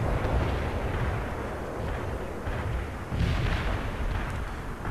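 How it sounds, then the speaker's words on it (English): Heavy artillery fire in the World in Conflict video game forms a dense, continuous rumble of distant booms that rolls on without pause, loud and unbroken, with no voices. "heavy artillery coming in"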